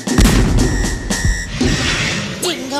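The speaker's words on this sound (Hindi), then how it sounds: "फायर तो कर दिया, लेकिन सिर्फ 6 गोलियां थी, पहले ही खत्म हो गई है।" Rapid cartoon gunfire in a Hindi animated treasure-hunt story: a burst of loud, booming shots fired in quick succession over about two seconds, followed by a short whistling effect near the end.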